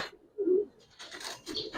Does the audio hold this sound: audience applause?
no